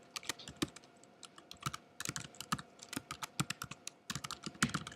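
Quick, uneven typing on a computer keyboard, with sharp close-up key clicks in bursts and brief pauses, fairly quiet overall with no talk.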